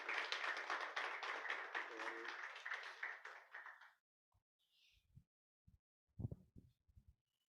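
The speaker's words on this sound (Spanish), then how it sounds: "Pueden sentarse y pueden aplaudir al Señor." A congregation at a church service claps together, a dense burst of applause that fades out within about four seconds, followed by scattered faint knocks and thumps in a quiet room.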